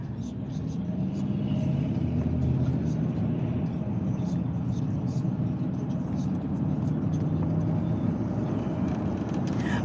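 A car drives along a road past shops, a steady broadband engine and tyre rumble heard from inside the vehicle, continuous and fairly loud, with a voice talking over it.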